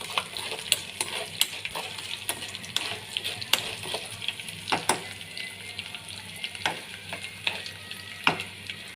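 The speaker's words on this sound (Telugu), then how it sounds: "కరివేపాకు, ఎండుమిర్చి, జీలకర్ర, ఆవాలు, పప్పు ఇలాంటి పోపు దినుసులు అన్నీ వేసుకోవాలండి ఈ పాన్లోనే. ఇవన్నీ కొంచెం వేగనియాలండి బాగా." Curry leaves, dried red chillies, cumin, mustard seeds and dal frying in oil in a pan for a gongura pickle tempering, with steady close sizzling punctuated by sharp crackles and pops throughout, no talking.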